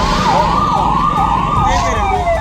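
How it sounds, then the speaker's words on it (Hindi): An ambulance siren wails loud and close in a city, its pitch sweeping up and down in a steady, continuous cycle. "पूरा शहर एम्बुलेंस की आवाज से गूंजने लगा"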